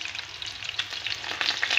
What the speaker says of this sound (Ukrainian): Поки досмажується чебурек